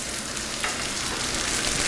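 Water heating in a pot on a stovetop while potatoes are cooked, a steady dense hiss and bubbling sizzle held at an even level throughout, close and with no talk over it.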